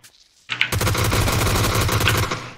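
Loud, rapid automatic gunfire in the battle-royale video game PUBG Lite, a sustained burst of shots lasting about two seconds after a brief quiet start, with no talk over it.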